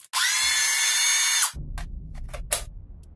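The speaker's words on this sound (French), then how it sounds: "je vais tester les clés à choc sur les roues de la Corsa" A cordless impact wrench on a car wheel whirs loudly and steadily for about a second and a half, then stops, followed by a few short hammering bursts over a low rumble.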